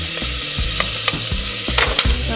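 Butter melting in a pan for a creamy mushroom soup, sizzling loudly and up close while a utensil stirs and scrapes repeatedly across the pan in uneven strokes.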